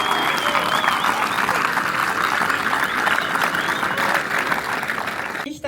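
Crowd at the opening ceremony of the H-Boat World Championship in Ebensee claps steadily for several seconds, a broad, even wash of applause, with a few faint voices mixed in before it fades.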